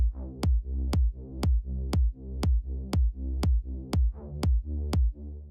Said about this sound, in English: the result of this volume ducking is kind of a pumping, throbbing effect